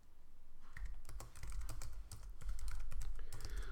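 Typing on a computer keyboard goes on in fast, steady bursts of close, crisp key clicks. Brief pauses break up the runs, and no one speaks.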